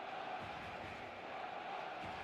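A stadium crowd in an eFootball 2026 Mobile friendly match keeps up a steady, dense roar and murmur, even and continuous throughout with no single cheer standing out.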